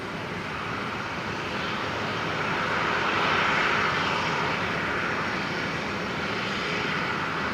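Airliner engines roar at Brisbane Airport, a broad steady rumble that swells toward the middle as the aircraft passes fairly close, then holds at a loud, even level with no voices.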